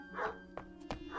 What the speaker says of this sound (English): Yep, that's the dog that always comes around.